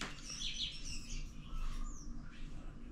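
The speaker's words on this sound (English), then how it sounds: "I can hear birds." Birds chirp softly in a quiet Bali garden, brief high tweets scattered over a steady low ambient hum with no traffic.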